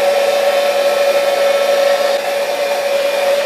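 A heat gun blows steadily on Worbla thermoplastic armband pieces, a loud, even whooshing blower drone with a constant whine that holds for the whole stretch, with no talking.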